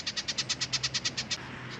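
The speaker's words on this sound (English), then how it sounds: "Well, hello to you too, bird." A bird chirps in a rapid, even series of about a dozen high notes at a Florida botanical garden in winter, fairly close and clear over a soft outdoor background, then falls quiet.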